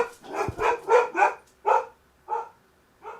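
A dog barks indoors in a house, several sharp, fairly close barks in an uneven series with short pauses between them, alone without talk.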